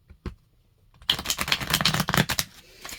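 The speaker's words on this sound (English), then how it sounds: "I'm going to take a moment while I shuffle the cards" Tarot cards are shuffled up close after a brief quiet moment, a dense rapid riffling flutter with soft tapping clicks.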